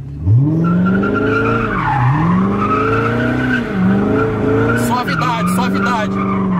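A car spins a smoky burnout donut with loud, continuous tire squeal and a revving engine rising and dipping in waves. People shout and talk excitedly over the noise.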